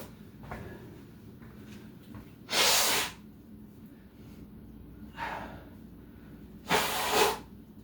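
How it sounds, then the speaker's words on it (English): Two loud, breathy nose blows with a quieter snort between them, heard over a steady low background hum. "Yes, blow my nose."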